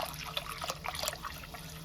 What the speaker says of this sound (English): so while it's hot, I just put some water in here